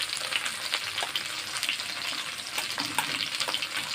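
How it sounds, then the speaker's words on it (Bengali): Bay leaf and cumin seeds sizzle and crackle steadily in melted butter for a whole-spice tempering, with occasional small pops and faint spoon scrapes, close and continuous with no voices. "বাটারটা একটু গলে গেলে তারপরে এতে ফোড়ন দিতে হবে।"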